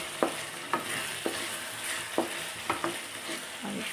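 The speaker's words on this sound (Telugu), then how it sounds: "దాన్ని బాగా కలుపుకొని" A pan of tomato and broad bean curry gets stirred with regular spoon scrapes and knocks about every half second over a soft, continuous sizzle. The stirring sounds are close and distinct, with no speech.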